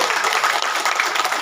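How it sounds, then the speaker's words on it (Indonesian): Brief burst of audience applause at a cultural gathering held in the courtyard of an Islamic boarding school, dense clapping from many hands at a steady level. "tepuk tangan untuk Indonesia, ya."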